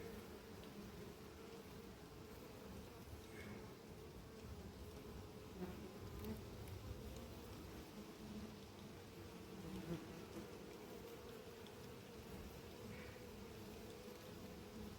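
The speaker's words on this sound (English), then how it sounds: "I keep getting distracted by wasps and trying to knock them on the head." Steady, faint buzzing of wasps hovering near beehives in an apiary, a continuous drone with slight swells and no talking.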